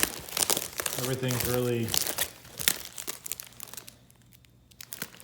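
Packaging from a QS Motors hub motor box is unwrapped, with plenty of padding and tape crinkling and tearing in close, busy bursts while someone talks over it.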